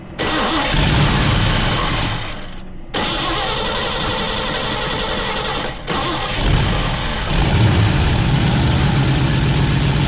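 A manual BMW Z4 roadster with a weak battery cranks briefly, then its engine catches and settles into a loud, steady idle close by, the tone dipping slightly a few times. No one speaks.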